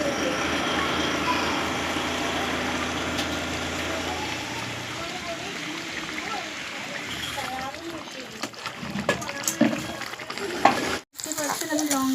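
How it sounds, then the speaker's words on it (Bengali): Onion, garlic and chili fry in a pan with a steady close sizzle and occasional stirring scrapes, while someone talks over it; clatter and knocks come toward the end. "পেঁয়াজ আর রসুনকে আমি লাল লাল করে একটু ভেজে নেব"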